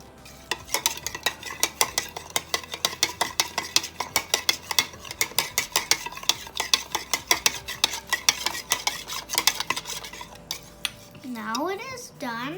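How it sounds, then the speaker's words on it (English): A spoon stirring guacamole in a bowl, made with avocado, gives a steady run of close, rapid clicks and scrapes that keeps going for several seconds before fading into quiet handling noise. "Now we mix it. What am I gonna mix it with? A spoon?"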